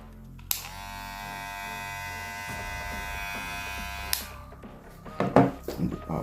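A Kemei KM 1895 hair clipper starts with a click and runs steadily with a bright, harmonic motor buzz for about four seconds, then switches off, followed by a few handling knocks and clicks.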